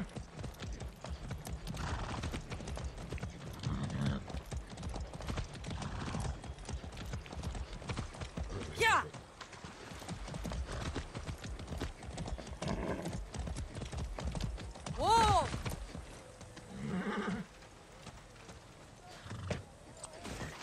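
A horse in the Far Cry 6 video game, steady hoof clip-clop at moderate distance with a couple of short whinnies breaking through, game ambience underneath.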